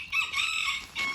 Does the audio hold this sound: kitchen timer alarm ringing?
no